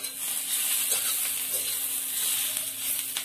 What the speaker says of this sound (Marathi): मी 6 लसूणच्या पाकळ्या घेतलेल्या आहेत, ते आपण भाजून घेऊ आपण।